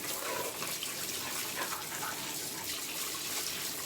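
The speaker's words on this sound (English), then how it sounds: "So I'm gonna let this kind of just run in some temperate water right quick" Tap water runs steadily over frozen salmon fillets in a kitchen, a continuous broadband splash and hiss that holds at an even level throughout without a break.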